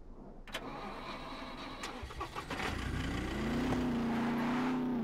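A light armoured truck's engine in the survival game SCUM starts up and settles into a steady mid-pitched hum that rises slightly as it revs, loud and close with no talking.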